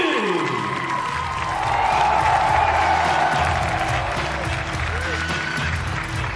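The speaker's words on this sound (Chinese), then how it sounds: "让我们掌声有请" A crowd at a WLF kickboxing event in New Zealand applauds and cheers to welcome fighter Qin Jinxu, steady clapping rising and holding while an announcer talks over it.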